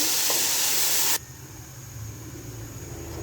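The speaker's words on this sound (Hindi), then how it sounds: "अब जो मैंने लहसुन, अदरक, हरी मिर्च और टमाटर का पेस्ट बनाया था, मैं वो डाल दूंगी।" A paste of garlic, ginger, green chili and tomato hits a hot pan of fried fennel seeds, starting with a loud, bright sizzle that abruptly drops to a softer, steady bubbling hiss.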